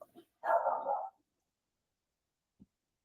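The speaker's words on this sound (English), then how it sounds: "my dogs were barking" Dogs barking indoors: one short muffled bark followed by a single longer bark, then silence and a faint thump.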